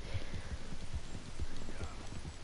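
Horse hooves clip-clop in a steady, even rhythm in the video game Red Dead Redemption 2. The low, close hoofbeats repeat over a constant background wash.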